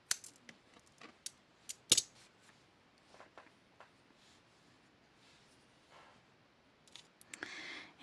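Thread is snipped off after knotting with a knotting tool, and several faint scissor snips and small clicks come up close, scattered irregularly through a quiet background with some soft handling rustle.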